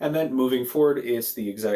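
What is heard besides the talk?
None of the usual background noises is heard.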